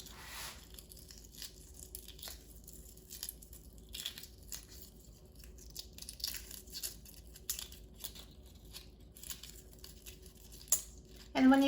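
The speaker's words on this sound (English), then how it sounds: "I just take an egg, crack it, and remove the peel." A hard-boiled egg cooked in an Instant Pot is cracked and its shell peeled off, giving faint scattered crinkling and crackling taps close up, ending in a louder crunch.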